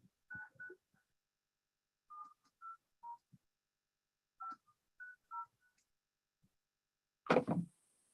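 Telephone keypad tones ring out one by one as a Zoom meeting ID is dialed in during a city Arts Commission call, with short, faint, irregularly spaced beeps and a brief louder burst of noise at the end.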